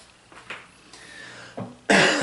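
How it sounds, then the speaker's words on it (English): A woodworker with COVID coughs in a shop, a few separate harsh coughs spaced apart, the last one loudest and closest. "You'll have to pardon my cough."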